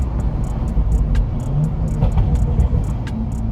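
A BMW F30 sedan accelerates hard from inside the car, a loud, steady low engine rumble that holds throughout, with faint ticking on top and no speech.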